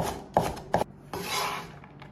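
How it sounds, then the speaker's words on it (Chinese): A knife strikes a cutting board in a few sharp chops while dicing carrot into small cubes: two quick, distinct hits close together, then a softer, longer scraping pass across the board. "最后再给它切成小碎丁。"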